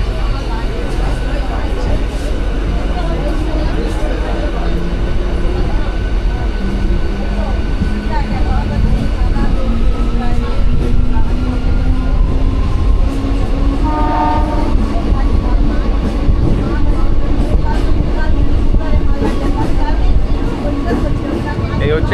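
A Tamluk–Digha train pulls out of Kanthi station with a steady loud rumble and rolling clatter, its horn sounding in rising tones midway, while a voice talks over the noise.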